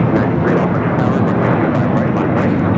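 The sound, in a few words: airliner taking off from runway 25R at LAX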